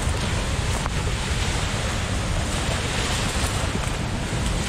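Hurricane floodwaters rage over a dam, the river risen far above its normal level: a loud, continuous broadband roar of rushing water, steady and close, with wind buffeting the microphone and no talk.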